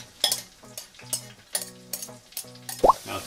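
Garlic, ginger and enoki mushrooms frying in a hot oiled pot, a steady close sizzle broken by a few soft stirring clatters and one brief bright scrape near the end.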